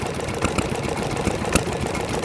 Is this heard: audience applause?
no